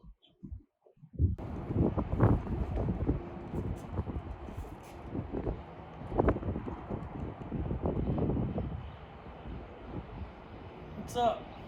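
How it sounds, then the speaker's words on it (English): Strong wind blowing outdoors, a steady broadband roar buffeting the microphone for most of the stretch, gusting up and down after a brief quiet start. "We're hoping this wind kind of dies down and doesn't blow us back to Kansas or New Mexico"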